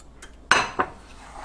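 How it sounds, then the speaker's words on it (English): Utensil clinks twice against a pan while stirring sugar into melted butter, a sharp near clink followed by a softer one, with a faint scrape after and no voices. "Stir it around. There, you can see that sugar is melting into the warm butter."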